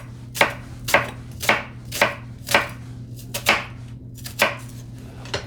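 Knife chopping through a peeled onion on a cutting board, about ten crisp evenly spaced cuts, close and clear, over a low steady hum, no voices.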